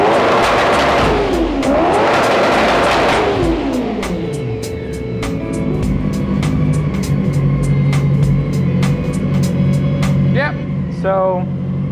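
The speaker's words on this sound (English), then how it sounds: "this is the 600cc go-kart" A Honda CBR 600cc engine fitted to a go-kart revs loudly and close, sweeping up and down in sharp blips before settling to a steady idle.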